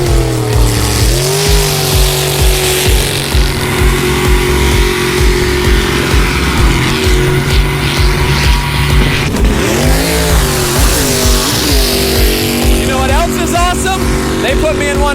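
A jet sprint boat powered by a Chevy small block V8 of 500 to 1,000 horsepower, racing on a short water course, its loud engine droning and repeatedly revving up and down in pitch, with someone talking over it.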